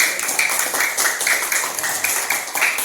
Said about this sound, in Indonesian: Tepuk tangan untuk pertanyaannya.